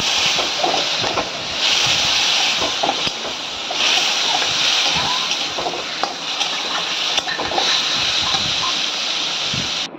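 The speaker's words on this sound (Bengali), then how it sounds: "ভালো করে জল দিয়ে কষাচ্ছি।" Papaya curry being stir-cooked with water in a pan, giving steady wet sloshing and splattering textures that continue loudly for the whole stretch, with faint kitchen background noise.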